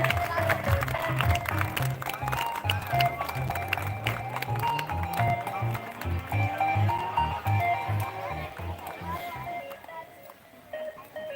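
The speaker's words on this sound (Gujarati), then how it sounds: "આપણે તાળીઓ શરૂ રાખીશું અને તાળીઓથી સૌને સન્માનિત કરીશું" Applause from the audience at a student award ceremony: sustained crowd clapping mixed with music, moderately loud and continuing throughout.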